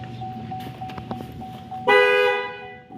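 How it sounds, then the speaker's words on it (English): A big air horn on a lifted off-road truck blasts once, a loud, close, sustained tone lasting about a second after a stretch of quiet idle noise and faint clicks. "Those people who don't know, that's a big air horn. Let's go press it."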